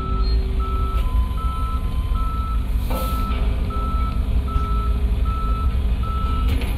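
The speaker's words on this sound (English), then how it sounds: "Can I get a tow truck down to my current 20, please, for a immobilized vehicle?" Reversing beeps from a tow truck in the video game Police Simulator, a steady string of evenly spaced electronic beeps over a constant low engine rumble, with no talking.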